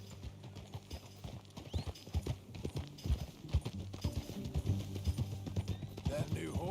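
Horse hooves clip-clop in a steady riding rhythm in the Red Dead Redemption 2 video game, close and clear over a low sustained music bed, with scattered clatter and a faint whinny near the end.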